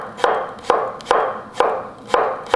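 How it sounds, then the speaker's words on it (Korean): Knife slicing a small cucumber thinly on a cutting board, five evenly spaced crisp chops about half a second apart, close and clear. "오이도 그냥 얇게 이렇게 썰어 주겠습니다"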